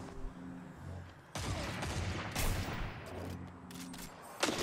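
Gunfire in a Destiny 2 Trials match strikes the player, a dense burst of shots and impacts over busy game noise, with a sharper crack near the end.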